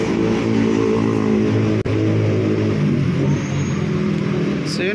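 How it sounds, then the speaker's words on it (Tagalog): Steady, loud street traffic near Quezon Bridge in Manila, with cars rumbling past close by in a continuous engine drone and one brief sharp knock partway through. "medyo magalaw at medyo maingay yung mga sasakyan"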